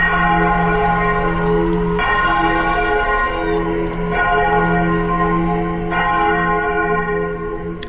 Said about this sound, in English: It's a loud sound of a bell for 10 seconds